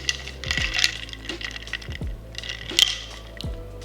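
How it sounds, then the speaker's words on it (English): A spoon stirs matcha with milk in a cup, giving repeated light metallic clinks against the sides, close and clear, in an irregular rhythm. "let's give it a stir"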